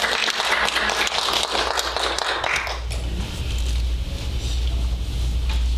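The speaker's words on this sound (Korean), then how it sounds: "박수합니다." A Korean Methodist church congregation claps together in a dense burst for about three seconds before the applause fades into a low, noisy room rumble.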